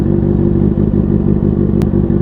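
A 1100cc motorcycle engine drones loudly and steadily as it is ridden, heard close up with a rough, buzzy mid-range tone and a brief click partway through.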